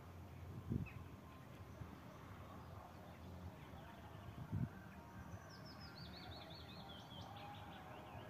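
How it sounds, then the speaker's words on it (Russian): Birds chirp and trill faintly in a spring park beside a river, a thin warbling call rising toward the end, with two soft low knocks and quiet outdoor ambience. "Посидела, послушала птичек."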